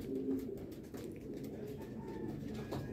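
Racing pigeons cooing in a loft, soft low repeated coos close by over a quiet background, with faint chirps mixed in.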